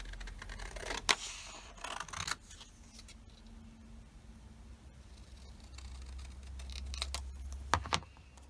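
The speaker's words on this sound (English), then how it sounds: "I'm just going to use my scissors to cut this out" Scissors cutting a stamped paper image out with a thin border, a few close crisp snips and scratchy paper rustles spread across a quiet room.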